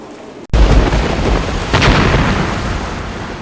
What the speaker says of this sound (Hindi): कैमरे में कैद ऐसा तूफान देखा नहीं होगा।